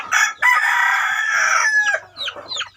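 A heavy Thai-Leghorn cross rooster near five kilos crows loudly and close on a farm, one long drawn-out call that breaks off, followed by a few short clucks.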